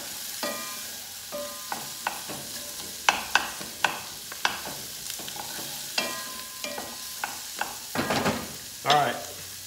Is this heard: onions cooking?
yes